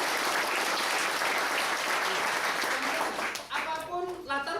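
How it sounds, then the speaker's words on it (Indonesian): An audience at a motivational seminar claps loudly and densely for about three and a half seconds, then the applause fades out as a speaker's voice comes in. "Kasih tepuk tangan untuk diri Anda."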